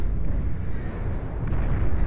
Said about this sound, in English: See them firing their little heat ray cannon.